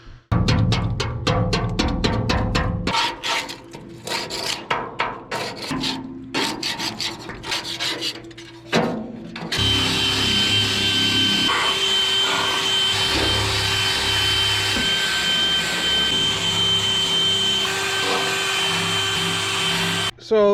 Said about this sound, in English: in the meantime I'm going to start wire wheeling all this heavy stuff down